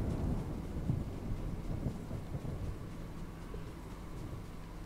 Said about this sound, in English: It sounds like there's a storm coming in.